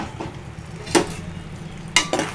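Lotus seeds (makhana) frying in a pan, with soft sizzling and a few sharp scrapes and clinks as they are stirred, close and without voices.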